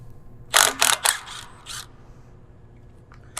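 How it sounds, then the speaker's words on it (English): A wrench works on the bolts holding a pinion gear onto the Y-axis drive shaft of a CNC saw. It makes a cluster of short, loud metallic clicks over a steady low machine-room hum, then goes quiet. "we're just going to remove all the bolts holding the gear onto the drive shaft"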